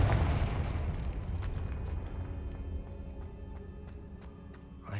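A Confringo blasting spell explodes in the Hogwarts Legacy video game: a loud, close burst at the start that fades into a long rumbling tail.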